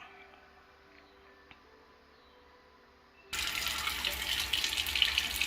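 A sink tap opens abruptly and water gushes steadily and loudly into a container, replacing a quiet room hum and continuing unbroken to the end.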